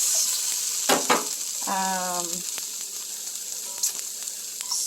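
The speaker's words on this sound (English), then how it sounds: "So I'm just frying up some of this for breakfast." Steady sizzling of breakfast food frying in a pan fills the clip, with a few clicks and clatters of utensils and a brief tonal beep partway through.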